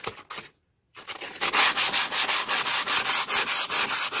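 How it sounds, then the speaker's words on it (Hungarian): Rust and old paint being sanded off the inside of a trailer: a short scrape, a brief pause, then steady, loud rhythmic sanding strokes in quick repeated passes, close up and with no talking. "el fogjuk kezdeni a csiszolást"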